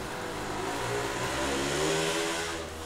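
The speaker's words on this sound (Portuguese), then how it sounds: "me desculpe pelo barulho, tá? De moto aí atrás." A motocross motorcycle passing along a residential street, its mid-pitched engine revving and droning fairly loudly for a few seconds, swelling as it goes by and then easing off.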